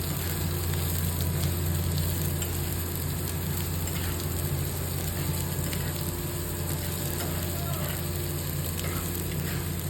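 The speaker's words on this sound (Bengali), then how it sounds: "পেঁয়াজ কারি পাতা এটাও পুরোপুরিভাবে একটুখানি ভাজা ভাজা করে" Chopped onion and curry leaves fry in hot oil for dahi tadka, giving a loud, steady, dense sizzle that runs without a break from start to finish.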